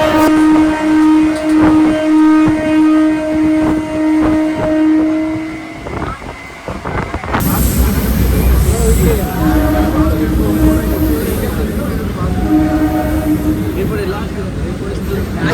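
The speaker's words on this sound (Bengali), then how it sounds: "আমাদের ট্রেন মেছেদা থেকে ছেড়ে দিল" A Howrah–Digha line local train pulls out of Mecheda station with a sustained tonal drone that gives way to a loud, continuous rumble and rattle of the running carriages.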